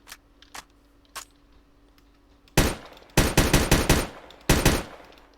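Modded guns firing in a video game: a few sparse, isolated shots at first, then loud bursts of rapid automatic gunfire in quick clusters, with no talking.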